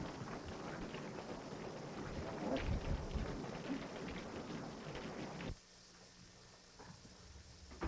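Thunderstorm in a 1934 melodrama: heavy rain hiss with low rumbling thunder, loud and continuous for several seconds, then cutting abruptly to a much quieter, thinner rain backdrop.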